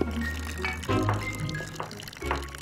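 Gravy is poured from a boat at an animated dinner table, a thick liquid glugging and splashing steadily in the foreground.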